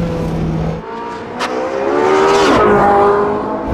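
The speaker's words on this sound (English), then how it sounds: "The 918 is an extremely sophisticated, extremely powerful hybrid supercar." A Porsche 918 hybrid supercar drives on a track, its engine loud and close, with rising revs, a sharp shift and a brief tire squeal over several seconds.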